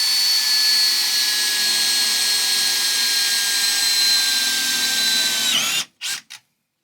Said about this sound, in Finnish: siinä nyt näkyy se, kun mä poraan sinne reijän myös toiselle puolelle